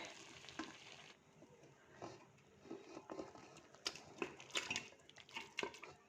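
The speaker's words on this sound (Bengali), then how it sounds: "এই দেখুন, আমি প্রেসারে ঢেলে দিচ্ছি মাংসটাকে।" Thick mutton curry is scraped and poured from a pan into a pressure cooker, giving a quiet sizzle with irregular wet slops and soft metallic scrapes close by.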